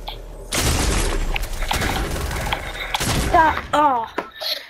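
Fortnite gunfire comes as several loud bursts of shots and booming impacts that stop and start, ending in a quieter tail with whistling game effects; a voice is faintly present.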